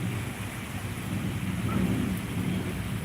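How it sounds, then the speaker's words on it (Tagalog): Heavy rain pouring steadily during a rainy Friday, a dense continuous hiss with a low rumble beneath, even and unbroken throughout. "Malakas ang ulan dito sa amin."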